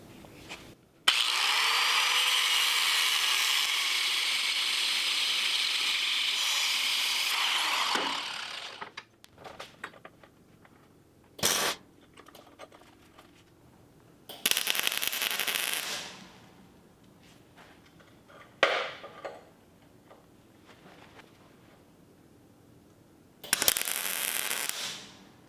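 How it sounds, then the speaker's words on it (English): A power tool cuts through a stock steel spindle from a go kart, a long loud grinding whine for several seconds, then shorter bursts of cutting with pauses between them, close by. "Now I'm going to cut this stock spindle to fit our new,"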